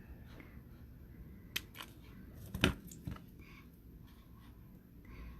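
Small cutters snipping the tail of beading wire after a crimp on a multi-strand necklace, a few faint clicks against a quiet room, with one sharper snip standing out.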